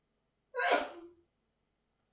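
A single sneeze rings out in a lecture hall during a mathematics talk: one short, fairly quiet burst that rises and fades within a second, with silence around it.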